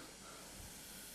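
A steady, dense hiss of steam rushes from a hydrogen peroxide and potassium permanganate geyser, a continuous broadband spray sound lasting the whole moment, fairly faint with no voices.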